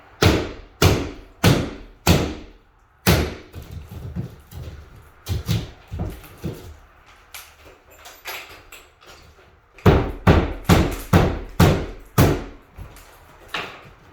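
Someone knocks a hole through partly cut drywall with repeated heavy thuds in rapid bursts, loud and close, each blow giving a hollow boom with a brief rattle, and a quieter stretch between the bursts.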